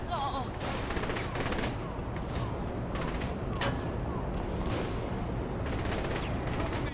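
Rapid bursts of shotgun and gunfire in the video game Saints Row the Third, dense repeated shots over a constant background of game noise and music, with occasional voice.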